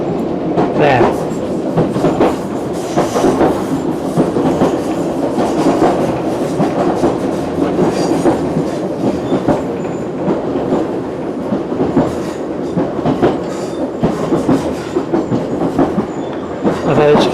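A train running on a Scottish rail line where it branches off toward Cathcart, a loud continuous rumble with rhythmic wheel clatter over the rails, heard from on board as a person talks over it.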